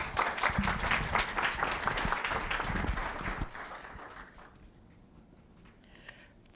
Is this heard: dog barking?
no